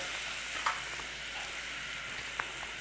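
Flour cooks in melted butter for a parsley sauce, giving a steady, soft sizzle with a couple of light clicks from stirring, and no one talks over it.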